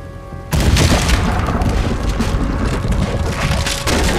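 Cannon blasts in Red Dead Redemption 2 during a fight at a Native American camp, starting abruptly as a loud boom and carrying on as a dense, rumbling barrage with crackling debris for several seconds.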